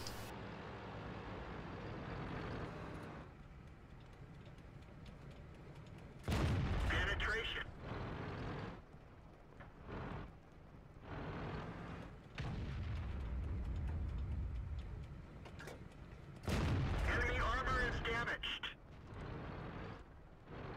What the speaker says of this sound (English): Pretty much firing as fast as this gun can.